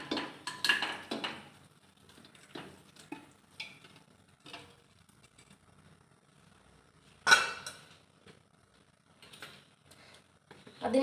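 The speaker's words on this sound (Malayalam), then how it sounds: "എന്നിട്ട് നമ്മൾ ഈ കഴുകി വൃത്തിയാക്കി വെച്ചാണ് ബീഫ് നമുക്കിതിലേക്ക് ഇട്ട് കൊടുക്കാം" Washed beef pieces tipped into a pressure cooker on a gas stove, with a few scattered clattering knocks and brief rustles of meat hitting the pot, quiet between bursts, no voices.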